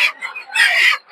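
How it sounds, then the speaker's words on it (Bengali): Local country chickens at a Bangladeshi village poultry market cluck and squawk in close, loud bursts, with a denser stretch of overlapping calls near the end. "এদিকে প্রচুর পরিমাণে দেশি মুরগি পাওয়া যায়।"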